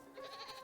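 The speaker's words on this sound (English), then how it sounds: "Look at all these goats." A short, faint goat bleat in the video game Little Good, a single wavering cry over quiet background ambience.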